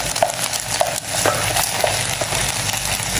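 Eggs with chili stir-fried in a pan at a roadside campsite, a steady crackling sizzle broken by a few sharp scraping clinks of the utensil, close and fairly loud with no talking.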